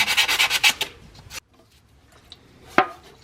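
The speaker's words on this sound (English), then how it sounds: "I have some wet or dry sandpaper. I'm just going to clean this up a little bit." Wet or dry sandpaper scrubs surface corrosion off metal on an alternator from a 2.4L Honda Accord or CR-V: a rapid burst of harsh rubbing strokes, then quiet with a single sharp knock.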